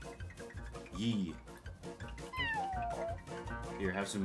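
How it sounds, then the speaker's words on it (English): Cartoonish cat meows from the video game Mewgenics pop up a few times over steady background talk and game sounds, fairly quiet and mixed in. "They have a meow button"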